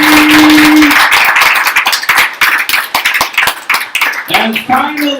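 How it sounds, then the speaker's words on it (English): Forum audience members clap for a Peruvian activist and human rights organizer, brisk hand claps that start dense and thin into scattered claps, with voices breaking in near the end. "a round of applause for Peruvian activist, organizer, human rights consultant"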